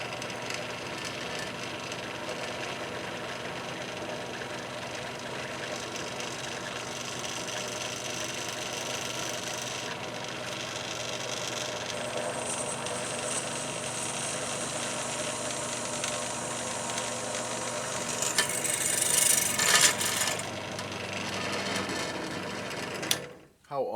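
A drill bores a hole into the power supply of a 1976 Exidy Death Race arcade machine, a steady whirring motor running for about twenty seconds with a louder burst near the end.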